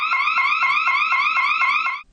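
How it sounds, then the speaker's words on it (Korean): Scream-activated siren alarm in a women's restroom, wailing loudly with a rapid repeating rising sweep for about two seconds before cutting off. "곧바로 사이렌이 큰 소리로 울리고 화장실 밖에 달린 경광등도 요란하게 번쩍입니다."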